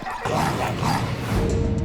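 A dog barks in a few sharp, close yips and woofs over a short stretch, loud against a busy background.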